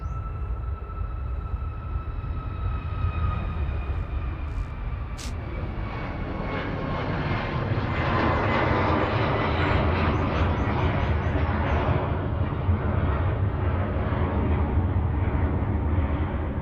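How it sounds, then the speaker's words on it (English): A Boeing 737 Max 8 departing Manchester Airport for Malaga, its jet engines building from a distant whine into a loud, broad roar that holds steady throughout. "3208 to Malaga departing there now on HVVE and Max 8"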